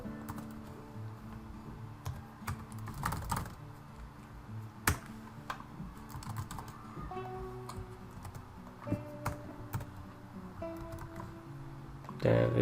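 Light typing on a computer keyboard during coding work, scattered soft key taps and a few sharper clicks over a low background hum, no clear speech.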